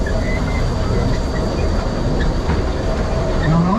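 A steam locomotive pulling cars rolls along the tracks in the redwoods near Santa Cruz, a loud, steady rumble with faint clickety-clack and a brief wheel squeal near the end.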